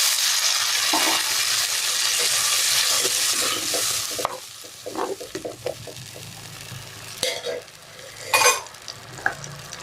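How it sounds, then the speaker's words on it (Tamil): Onion and tomato for a dried fish curry sizzle loudly in a hot pan at first, then quieter frying continues under scattered stirring scrapes and clinks of a spoon, close up with no voices. "இது நல்லா வதங்கட்டுங்க."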